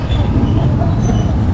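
Riding aboard a tricycle: a steady low engine rumble and road noise drone continuously and fairly loud from start to finish.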